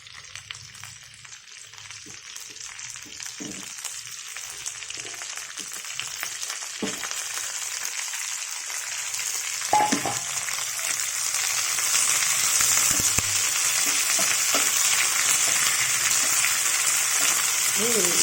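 Curry leaves fry in hot oil in a pan, giving a steady hiss and crackle that grows louder and denser as it goes, with scattered pops and stirring clinks.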